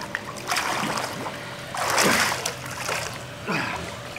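Water splashes in a swimming pool in a few bursts, a bigger slosh in the middle and smaller splashes before and after, close by with some surrounding background noise.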